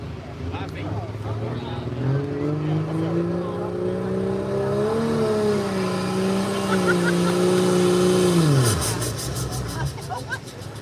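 A turbocharged pulling truck at a summer truck and tractor pull roars under load, its engine tone rising steadily then dropping sharply as the run ends, with crowd noise underneath.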